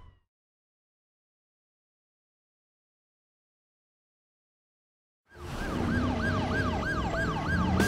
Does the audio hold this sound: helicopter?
no